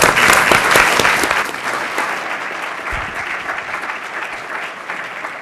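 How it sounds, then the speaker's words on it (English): A crowd claps steadily and enthusiastically, a dense wash of applause that holds strong throughout and tapers only slightly toward the end. "Go wild with applause."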